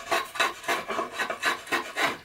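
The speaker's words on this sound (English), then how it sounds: "cutting really nicely with the draw knife" A draw knife shaves yew heartwood in about eight crisp, rhythmic rasping strokes, close and clear with no voices.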